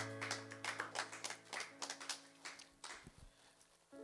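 A church congregation at a Belgian worship service applauds, a run of scattered, fairly faint claps and taps with a few sharper hits near the end over a sustained musical tone.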